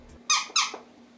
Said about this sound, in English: you're gonna start carrying around a squeaker with you?